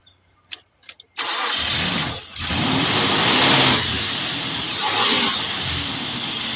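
An old Nissan Pathfinder or Mazda B4000 engine, parked for years and having just stalled, cranks briefly in a few short bursts, then catches and roars up into a loud, steady running rumble that dips once and settles.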